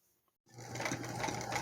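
Domestic sewing machine stitching fabric, starting after a brief quiet moment and then running as a steady, close whirring hum with fast rhythmic needle clatter.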